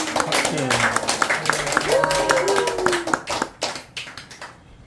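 Audience clapping to welcome a speaker at a church gathering, scattered claps with voices and tonal sounds mixed in, tapering into a few isolated claps before falling silent.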